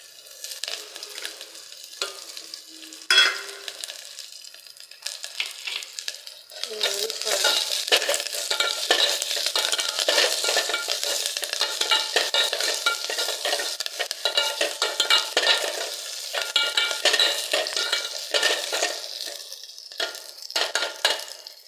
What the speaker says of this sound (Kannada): ನೆಕ್ಸ್ಟ್ ಕರಿಬೇವು ಸೊಪ್ಪು ಹಾಕೋಣ.